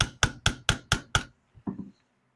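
A hammer taps on a seized part fused to a shaft during a Savage 24B restoration: six sharp, evenly spaced metallic knocks, then a short pause and two softer, quicker taps, close and alone.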